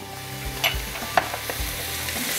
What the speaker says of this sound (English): we want to add it in while we're sauteing our vegetables